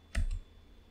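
A single short burst of keyboard typing, a quick cluster of clicky keystrokes close by, then quiet.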